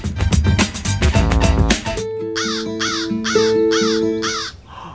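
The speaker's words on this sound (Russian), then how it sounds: "Это ворона." A crow cawing: five harsh, evenly spaced caws, close and clear, follow a loud burst of other noise at the start.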